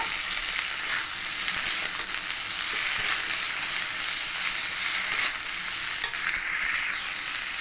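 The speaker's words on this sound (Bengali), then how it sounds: "টমেটো দিয়ে দিচ্ছি টমেটো দিয়ে আরেকটু মিষ্টি ভেজে নেব" Tomato, potato and yardlong beans frying in a pan, a dense continuous sizzle close up, with occasional soft stirring scrapes and a sharper clink near the end, no voices.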